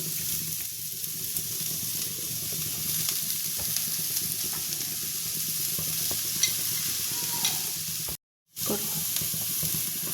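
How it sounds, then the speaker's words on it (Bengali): Paneer being stirred and fried with spice masala in a pan, giving a continuous close sizzle with stirring clatter throughout and a brief silent break near the end. "এই পনিরটা এবার আমি সবটা দিয়ে দিচ্ছি"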